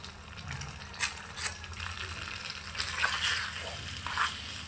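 Food sizzles gently in a miniature pot over a village-style cooking setup, a soft continuous frying hiss broken by a few light stirring clinks and scrapes, close and quiet, with no voices.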